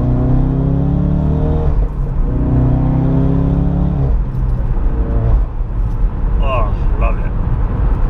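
A tuned 400 BHP Ford Focus RS MK3 downshifts around an icy roundabout, its engine droning loud and close with a rising whine, a drop in pitch at the shifts and a throaty rumble, all under steady talking.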